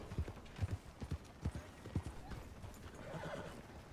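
A horse in Red Dead Redemption II clops along with rhythmic hoofbeats, then neighs softly near the end. The sound is quiet and close, with no clear talk.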